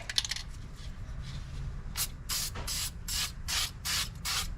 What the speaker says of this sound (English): I'm gonna just spray this with a little fluid film